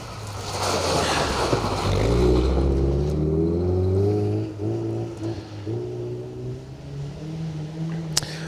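Rally car on a gravel forest stage of the Greystoke Stages Rally in 2025, engine rising and falling as it slows and works through a corner, loud and close with a sharp click near the end and no talk.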